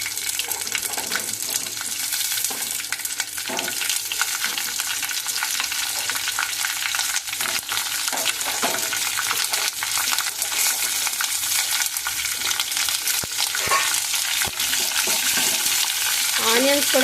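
Large-cut onions fry in a pan for a stuffed eggplant curry, giving a continuous, fairly loud sizzle with occasional stirring scrapes and clinks throughout.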